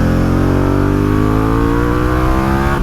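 A 2022 Harley-Davidson Pan America 1250 Special's liquid-cooled V-twin engine revs hard, loud and close, its pitch climbing steadily through the run.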